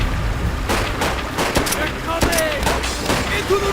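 Rapid bursts of gunfire crack through a Call of Duty: World at War battle, a fusillade of sharp shots with a steady noisy backdrop, while someone talks over it.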